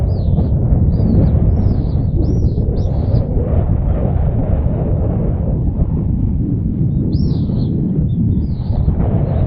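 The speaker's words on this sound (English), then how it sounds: "Hope you can hear what I'm saying, it's quite windy up here." Strong wind roars continuously against the microphone on a Bulgarian hilltop with deep buffeting gusts, and a few thin bird chirps come through faintly on top.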